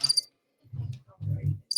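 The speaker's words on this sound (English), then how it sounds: "Crickets." Crickets chirp in short rhythmic bursts, a high steady trill at the start and end with a low hum of room noise between; no voices over it.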